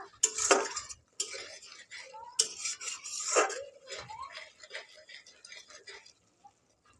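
A metal spoon scrapes and stirs masala with yogurt in a pan as the spices release oil, producing irregular clinks and rasping scrapes in bursts, tapering off into quiet near the end.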